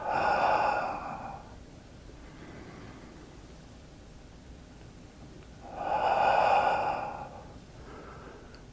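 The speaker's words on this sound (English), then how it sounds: "Inhale up, exhale down" Slow deep breaths during a qigong exercise, two long airy exhalations several seconds apart, close and soft with quieter inhales between them.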